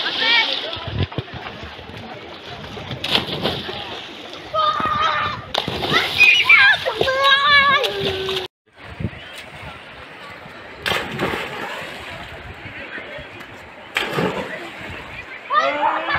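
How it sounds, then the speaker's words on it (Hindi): Small children splashing as they take dips in the Ganges river at Haridwar, with sloshing water and excited kids' voices throughout, loud and close, broken by a brief cut partway through. "इतने छोटे छोटे बच्चे डुबकी लगा रहे हैं"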